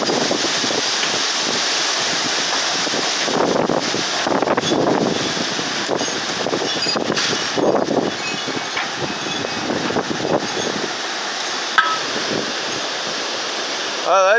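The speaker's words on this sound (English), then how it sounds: "I'll try and hold this still so you can get a good idea of the wind here." Strong gusting wind from Hurricane Zeta roars through an outdoor setting with big oak trees, buffeting the microphone in loud, surging waves for the whole stretch, with a brief sharp knock near the end.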